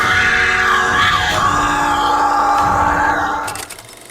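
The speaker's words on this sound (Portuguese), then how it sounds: "precisava de vozes de monstros mais humanas" A performer's own voice gives a raw, organic monster scream, loud and sustained with a strained, bellowing edge that breaks off near the end into a few rough fragments.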